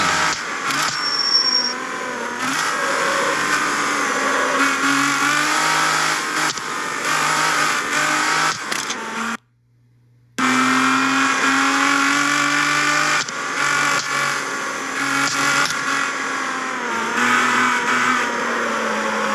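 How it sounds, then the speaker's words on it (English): Nissan Skyline R33 lapping a circuit, its engine revving hard and rising through the gears while the front tires squeal, loud and close, with a brief cut to silence partway through. "You can hear the tires squealing in the front too."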